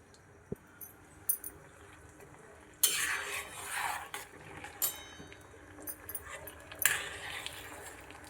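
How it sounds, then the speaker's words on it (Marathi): A spoon stirring homemade hair oil in an iron kadhai, producing intermittent metallic scrapes and clinks in short bursts against a quiet background. "तर ह्याला थोडंसं चमच्यानं हलवून घेते"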